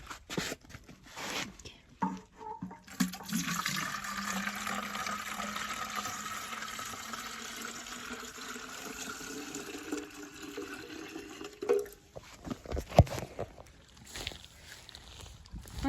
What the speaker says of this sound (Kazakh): Соның үстіне осылай құйып шығамыз аздап.